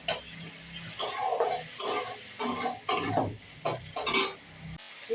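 Ginger-garlic paste and tomato masala stirred in a pan for a potato, eggplant and Bombay duck curry: rhythmic scraping and clacking strokes over a soft sizzle, close by with no speech.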